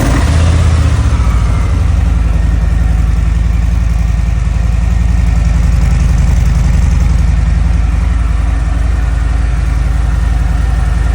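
A 2023 Harley-Davidson Anniversary Edition motorcycle with stock mufflers fires up from cold and settles into a loud, deep, lumpy V-twin idle that pulses steadily up close, with no talking.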